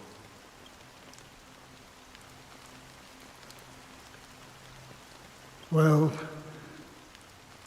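Steady rain falls on surfaces with a soft, even patter throughout, in the game Honkai: Star Rail; a voice briefly speaks near the end.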